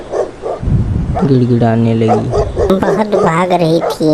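A cartoon dog barks repeatedly in an animated story, loud yapping barks mixed with a narrator's speech.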